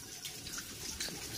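Water runs steadily from a tap in a village home, a quiet continuous splashing hiss with small gurgling variations and no talk over it.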